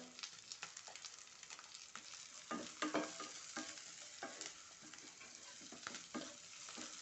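Onions with salt fry in a pan for a Palakkad-style potato masala curry, a soft, steady sizzle with frequent stirring scrapes and taps throughout, heard quietly with no voices.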